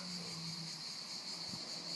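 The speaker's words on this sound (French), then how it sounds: "Je pense que la cigale n'est pas loin." A cicada near a tree sings a steady, unbroken high buzzing drone, faint and somewhat distant, with a low background hum and no voices.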